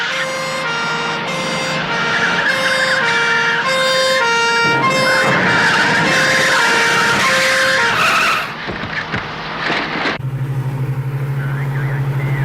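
A police car's siren wails in rising and falling tones, loud and close, mixed with skidding and traffic noise, then cuts to a steady engine hum near the end.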